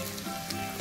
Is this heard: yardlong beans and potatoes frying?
yes